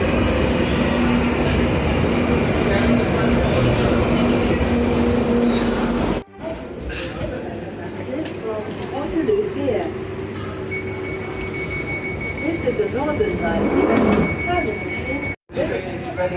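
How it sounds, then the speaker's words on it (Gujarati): Loud, sustained squeal of train wheels as a London Underground Northern line deep-level train arrives and rumbles through the station, with a voice speaking over the din. "આ લાઇન અંડરગ્રાઉન્ડમાં સૌથી વધારે અવાજ કરે છે, કેમ કે આ સૌથી ડીપ લેવલ અંડરગ્રાઉન્ડ ટ્રેન છે નોર્થર્ન લાઇન"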